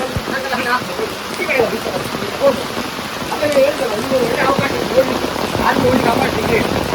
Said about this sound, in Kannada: ಆ ಭಾಗದಲ್ಲಿ ಬೀಳುವ ಮಳೆ ನೀರು